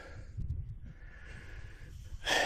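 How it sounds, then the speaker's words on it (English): Heavy breathing from a hiker on a trail, close-up puffs and snorting breaths, rough and labored, ending in a louder rush of air. "I'll try and edit out all the heavy breathing."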